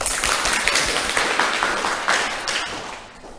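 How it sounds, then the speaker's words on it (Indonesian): Students applauding in a classroom, a dense burst of many hands clapping that holds steady, then gradually fades out over a few seconds. "Beri tepuk tangan"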